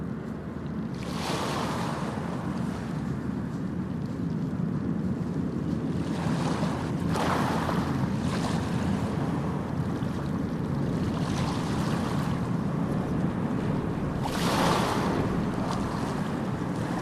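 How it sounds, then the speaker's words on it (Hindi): Ganges river water flowing past a ghat in Rishikesh under a cold wind, a loud continuous rushing wash with gusty swells of wind noise buffeting the microphone, with no voices. "गंगा जी का बहाव नॉर्मल ही है, ज़्यादा तेज़ नहीं है"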